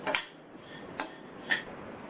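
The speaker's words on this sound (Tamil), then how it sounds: "இப்போ சேமியா சூடேறி வறுபட்டுச்சு" Vermicelli (semiya) roasting on medium heat in a pan, with a few sharp metallic scrapes and clinks of a spoon stirring against the pan, spaced about half a second apart over quiet sizzle.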